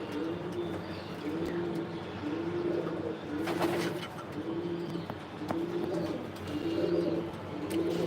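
Racing pigeons in a loft coo steadily in low, rolling phrases, several birds overlapping in a continuous murmur with occasional chirps and faint background clatter.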